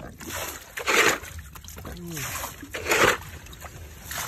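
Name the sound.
bailing water out of a small boat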